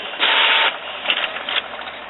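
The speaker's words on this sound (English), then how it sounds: "Okay, now I'm printing out a nozzle check." A Canon IP7220 inkjet printer runs a nozzle check, its print head shuttling with a steady mechanical whir that swells and eases in short passes. The printer is close and alone, with no voices.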